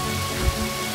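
Rain in an animated cartoon falls as a steady, even patter for about a second, with one slightly louder drop near the middle and no voices.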